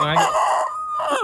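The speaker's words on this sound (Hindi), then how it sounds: "ये देखे बांगे दे रहा है।" An Aseel rooster crows once, close and slightly hoarse, a short strained call with feed stuck in its throat.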